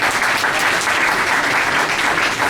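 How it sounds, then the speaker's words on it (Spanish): Loud, sustained audience applause for a speaker at an international jurisprudence conference, dense clapping close by and continuing evenly throughout. "vamos a darle un fuerte aplauso al maestro Antonio por su participación"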